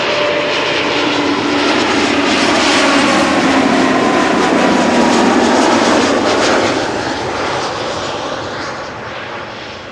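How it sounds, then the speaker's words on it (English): KLM airliner arriving from Brussels at Schiphol Airport, a loud continuous engine roar that swells and then slowly fades as the jet passes close by. "KLM Flight 1704 arriving from Brussels"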